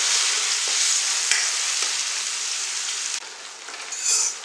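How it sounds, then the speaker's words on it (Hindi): Chickpeas for Multani chole sizzle steadily as they sauté in a hot pan with salt, a dense continuous frying hiss broken by a few soft stirring scrapes, with no talking. "ये भून रहा है अच्छे से।"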